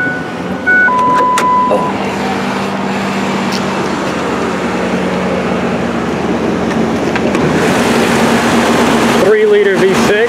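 A Ford Ranger pickup with a 3-liter V6 and 40,000 original miles, found abandoned and later restored, cranks and settles into a loud, steady idle up close, with a brief spoken exclamation.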